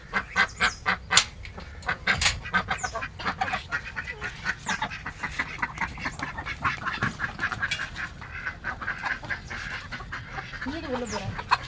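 Household ducks quack and chatter in a busy, irregular stream at close range, with a bird calling now and then among them and occasional speech underneath.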